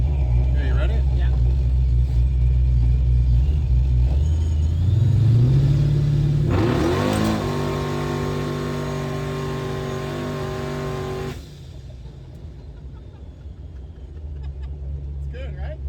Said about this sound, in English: This is just gonna be first gear, first to second, but it's not gonna pull. It's just gonna smoke the tire.